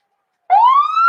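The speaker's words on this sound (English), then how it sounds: "as we wait for the siren" A ballpark siren goes off after a run scores at a Pioneers baseball game, starting abruptly after a brief silence and rising steadily in pitch as a loud, sustained wail.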